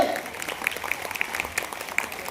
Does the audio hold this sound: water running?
no